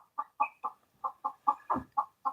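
A broody hen on an off-grid jungle homestead in Hawaii clucks close by in a quick series of about ten short, evenly spaced clucks, with no talking.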